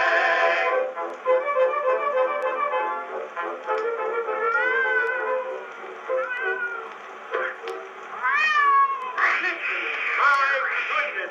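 An Edison Diamond Disc acoustic recording of a novelty rag, with a voice imitating a cat's meows and wailing caterwauls over band accompaniment, bright and continuous, with the thin, boxy tone of an early disc.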